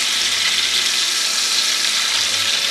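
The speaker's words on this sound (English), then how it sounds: "placing the greasy side of the chop on my cooking device, my frying pan here" A steady, loud sizzle of a pork chop frying fat side down in a hot pan, continuous crackling hiss with no talking.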